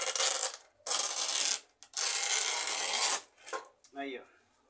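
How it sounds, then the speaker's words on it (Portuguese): A rod for an ionic wand is rubbed with fresh sandpaper in long, loud rasping strokes that stop briefly between passes, close up and with no talk over them. "Lixa nova. Tem que ter cuidado. Não posso nem lixar muito aqui."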